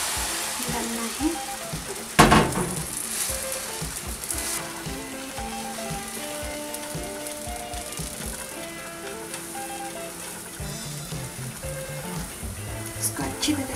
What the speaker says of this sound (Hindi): अभी आपको पैन अच्छी तरह से गरम हुआ है, उसमें बटर डालना है